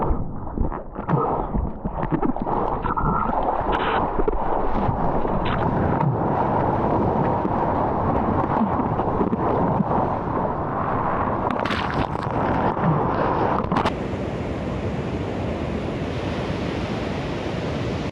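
Ocean surf breaking and rushing continuously at a surfing spot with small waves, a loud steady wash of water roaring close by with wind buffeting the microphone throughout.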